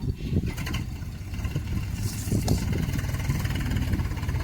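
A tractor engine starts and settles into a rough, steady idle on a farm during maize sowing work, a close mid-pitched rumble with irregular chugging that holds throughout without talk.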